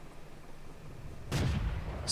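A single booming tank cannon shot rings out in a World War II tank game replay, a loud close blast with a short rumbling tail after a quiet stretch.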